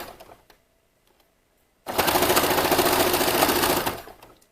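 A sewing machine top stitching a waistband on a vintage jumper, running in one steady, fast, close rattling burst of about two seconds after a quiet pause with faint handling sounds.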